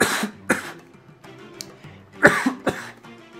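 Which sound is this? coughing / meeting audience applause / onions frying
coughing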